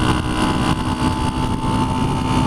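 A 1976 Honda CB125S motorcycle engine runs steadily while being ridden, a loud, continuous droning roar with a slight rise and fall but no breaks or speech.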